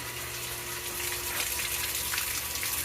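Water from a well-pump-fed hose flushes out a car radiator during a 351M engine freeze plug repair, a steady broadband gushing rush holding level and close throughout with no talking.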